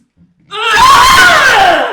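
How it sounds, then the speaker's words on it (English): A woman lets out a single loud, wavering scream of despair that begins abruptly after a brief silence and holds for over a second, close and alone. "Medusa screams in despair"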